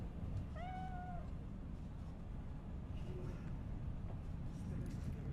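A cat in the video game Metal Gear Solid 3 gives one clear, drawn-out meow and then a softer second one, over a steady hum of game background noise.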